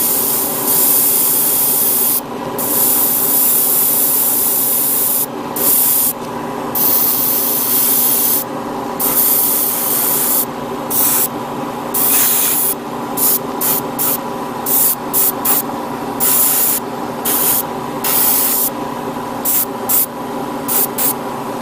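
An airbrush sprays thinned paint onto a 1/144 HG Gundam Cathedral Schwartzritter model kit, a steady loud hiss broken into repeated bursts with short silent gaps between passes.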